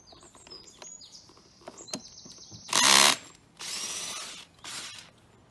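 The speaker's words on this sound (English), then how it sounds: "undo your bolts." A power tool undoes the bolts on the head plate of a WOW saddle in three loud bursts of whirring, each lasting about half a second to a second, after lighter clicks and handling noises.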